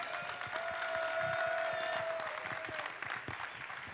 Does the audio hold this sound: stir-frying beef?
no